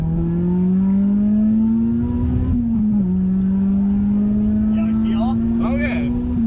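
A tuned Honda Civic EP3 Type R with its VTEC engine pulls hard in a loud, rising drone, dipping briefly at a gear change before climbing again, heard close from inside the car with a voice shouting over it.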